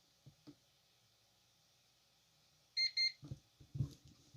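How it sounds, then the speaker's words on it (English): Two quick electronic beeps from a CyberPower CP1500PFCRM2U 1500VA rack UPS sound close together, loud against a quiet background, followed by a few soft clicks and handling noises. "So the UPS will beep twice."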